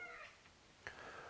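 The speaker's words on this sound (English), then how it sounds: "if you heard him meow there" A small house cat gives a single short meow, faint and off-mic, rising above a steady low background hiss beside an outdoor grill.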